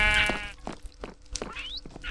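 Sheep bleating in Minecraft, a lamb tied up in a spooky build, giving a clear wavering bleat at the start, then shorter blocky game sounds.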